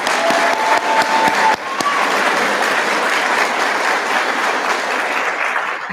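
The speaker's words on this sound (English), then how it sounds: "Could y'all just give them one more round of applause" A graduation crowd applauding for a fire academy class, loud and dense clapping that holds steady across the whole stretch, with a faint tone briefly audible early on.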